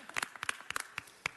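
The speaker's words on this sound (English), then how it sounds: "Let's give him another round of applause" Scattered handclaps from a small group in a city council chamber, sparse and fairly quiet, lasting only a moment.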